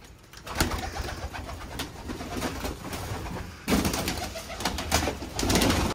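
Pigeons cooing and fluttering close by while being caught and handled for coloring, soft repeated calls with scattered wing flaps and rustling, no talk.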